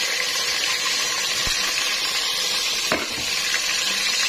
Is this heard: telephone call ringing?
no